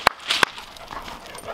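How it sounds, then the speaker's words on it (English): An Airedale Terrier gives a few short, faint whimpers and yips in quick succession outdoors on a farm homestead. Light shuffling follows, with no talking. "I love these Airedale Terriers on the homestead. Great farm dogs."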